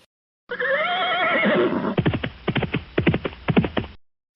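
A horse gives one long, wavering whinny at close range, then breaks into a rapid run of snorting, stuttering neigh pulses before falling quiet.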